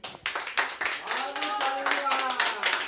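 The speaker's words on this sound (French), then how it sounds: "Est-ce que vous pouvez applaudir qu'on vous entende?" A small audience at a French author and publisher interview claps on request, with distinct sharp hand claps building into steady applause while a voice speaks over part of it.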